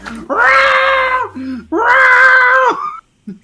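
A cat named Loki gives two long, loud, drawn-out meows close by, each about a second long, separated by a short pause, with a brief faint trailing sound at the end.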